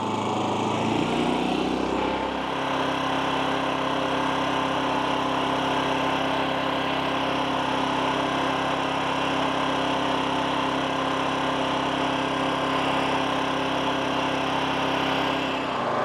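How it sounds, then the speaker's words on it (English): A GenMax 10500XiT generator engine runs at low idle around 3,200 RPM, producing a steady, loud, continuous mechanical drone with a constant hum and no breaks, heard close up and without talk. "right now the generator is as quiet as it goes"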